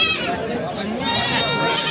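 A goat bleats amid the busy crowd of a cattle market in Jagannathpur, its short cries rising over a steady hubbub of chatter and nearby voices.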